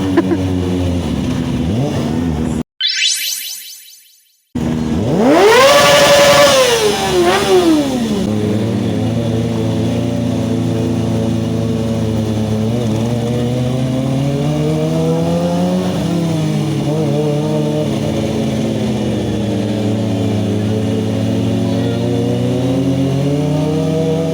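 A Kawasaki Ninja ZX-25R sport motorcycle engine revs hard, climbing and falling in pitch, then holds a steady, loud drone with rolling changes in speed.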